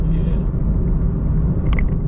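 Car cruising along a country highway in rural New South Wales, Australia: a steady, heavy low road rumble from inside the cabin, continuous and even throughout, with no one talking.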